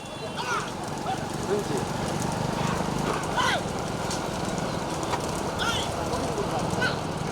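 Hooves clop unevenly as a cow walks past on a road, mid-distance, under a steady wash of outdoor noise and traffic, with people talking nearby.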